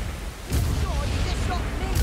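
Bomb explosion in Warhammer Vermintide, two sharp bursts about 1.5 seconds apart with rumbling between them, while a character voice calls out over the noise.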